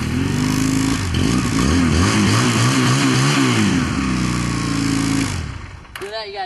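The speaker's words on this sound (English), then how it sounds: "Don't go revving it up like that." A motorcycle engine revs loudly up close, pitch rising and falling through several throttle blips before cutting back to idle.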